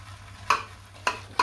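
A shaving brush whips Nivea Sensitive Shave Cream with a little water in a bowl, making three brisk, wet swishing strokes spaced about half a second apart over a quiet, low background hum.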